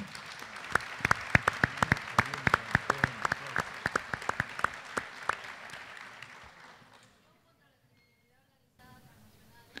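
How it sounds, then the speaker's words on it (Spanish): An audience claps for a doctor at a talk on preventing drug trafficking, a dense patter of hands with a few sharp claps on top, fading out after about seven seconds to near quiet. "Un aplauso para la doctora"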